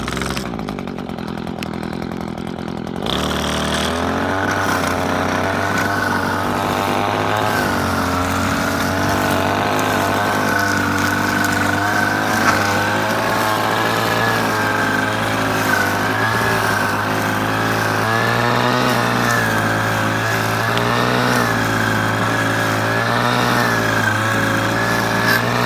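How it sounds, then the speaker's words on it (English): A gas-powered string trimmer starts up after a few seconds and buzzes loudly and continuously at close range, its raspy two-stroke drone rising and dipping slightly as it cuts. "Alright, this thing sounds like I'm gonna beat this, so let's start weed whacking."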